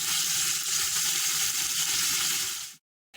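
Chicken pieces fry in a hot pan for Ecuadorian caldo de pollo, a dense, continuous hiss and crackle of sizzling oil that stops abruptly near the end.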